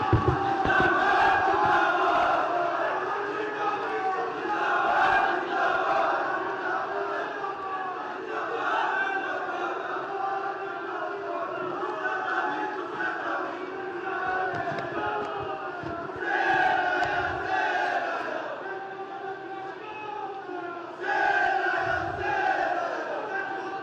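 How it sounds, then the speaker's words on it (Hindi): A large crowd at an outdoor political rally in Gopeshwar, Chamoli, cheers and roars loudly for a sustained stretch, with waves of shouting swelling repeatedly, the din carrying a strong echo. "जोरदार तालियों से स्वागत करें।"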